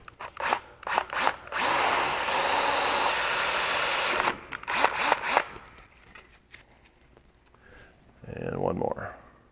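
A power drill bores a hole in a chopper motorcycle frame while mounting a gas tank, with a towel covering the motor: one long, steady whine of about two seconds between short bursts, and someone speaks briefly near the end.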